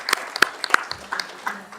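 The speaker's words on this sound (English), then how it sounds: "I want to give our presenters and guests a round of applause from the board." Scattered, sparse clapping from a few people at a pension fund board education day meeting room, a handful of distinct claps spread over under two seconds, moderately near and fairly quiet.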